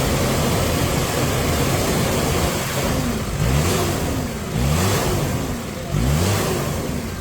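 Car engine at a garage revved in repeated blips, three rising surges about every one and a half seconds over a steady idle, close and loud with no talk.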